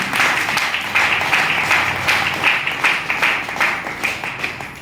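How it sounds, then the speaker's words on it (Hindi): Audience applause honoring visiting guests at a gathering, a moderately loud room of clapping hands with a steady, slightly uneven rhythm throughout, no speech over it. "मैं चाहती हूँ इन बहनों के सम्मान में जोरदार तालियां बजाएं।"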